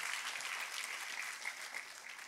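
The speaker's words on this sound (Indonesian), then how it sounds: "Tepuk tangannya yang paling meriah buat Tuhan kita." A church congregation claps together during a worship service, a steady, moderately distant wash of applause that holds evenly throughout.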